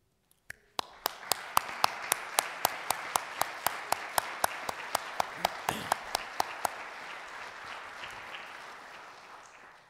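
Audience applause for past award recipients standing at a university distinguished faculty lecture ceremony, steady crowd clapping that starts abruptly and keeps a dense, even texture with sharper claps on top, slowly fading near the end.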